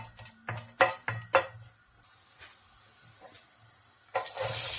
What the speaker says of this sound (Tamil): எண்ணெய் காஞ்சோனையும் தாளிக்கிறதுக்கு 4 கிராம்பு